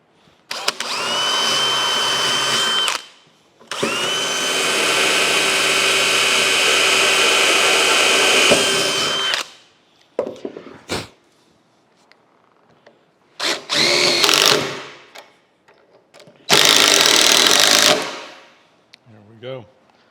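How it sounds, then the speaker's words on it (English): Power drill driving screws into the wooden boards of a workbench top on a steel frame, in long loud whirring bursts of several seconds with pauses between, then shorter bursts toward the end. "We'll just drive it on in."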